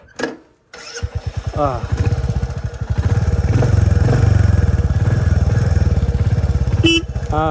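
A Royal Enfield Hunter motorcycle engine starts up after a brief clatter, then settles into a loud, close, steady thumping run with rhythmic firing pulses and slight revving, before cutting briefly near the end.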